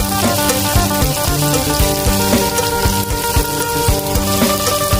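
Food is stir-fried in a hot pan for a Lao Sichuan dish, giving a loud, steady sizzle. Quick rhythmic scrapes and clatters of the utensil against the pan repeat throughout.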